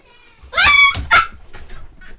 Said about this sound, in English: Hold on to the dog, because she was right behind me.